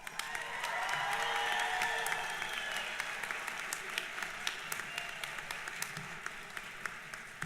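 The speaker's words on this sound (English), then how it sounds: "I invite you to applaud the family, friends, and faculty and staff who've helped you along the way." Graduation convocation audience applauding family, friends, faculty and staff, a sustained roomful of clapping that swells early then gradually thins, steady and fairly loud in a large hall.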